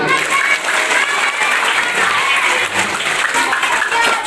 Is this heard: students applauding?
yes